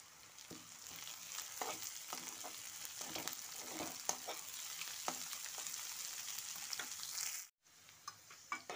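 Onions, green chillies and chopped beans frying in a pan for vegetable masala dosa, a constant crackling sizzle broken by repeated spatula scrapes, with a short silent gap near the end.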